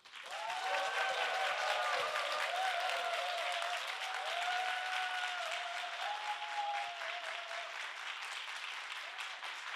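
Loud, sustained audience applause fills a book concert hall for the full stretch, a dense wash of clapping with some cheering voices and whoops rising above it.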